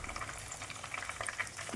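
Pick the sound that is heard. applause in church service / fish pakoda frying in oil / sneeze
fish pakoda frying in oil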